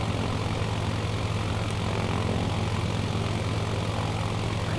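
A propeller aircraft engine in the Microsoft Flight Simulator video game, a continuous loud droning hum that stays steady throughout, heard alone without speech.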